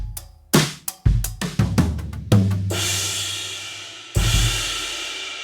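A drum kit plays a few sharp kick and snare hits, then crash cymbals wash out, with a slightly gritty, lo-fi coloring from passing through a WW2-era Federal AM 447/G vari-mu valve compressor.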